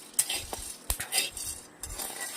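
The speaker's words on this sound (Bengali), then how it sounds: "চয়ের বিচিটি ভালো করে বেজে নিলাম" Jackfruit seeds being dry-fried and stirred in a metal pan for a jackfruit curry, giving irregular close clinks, rattles and scrapes of utensil against pan with no voices.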